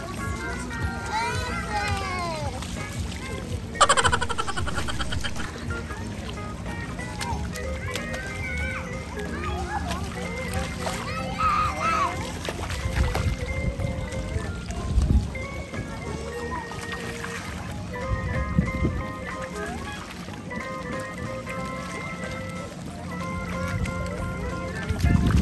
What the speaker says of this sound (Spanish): Mira, ahí hay un churrito de agua.